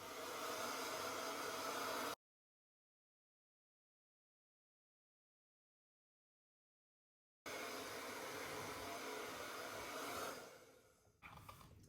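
A hair dryer blows a steady, close whooshing stream of air while hair is being dried, cutting out for a long silent gap, then resuming and wavering in strength near the end.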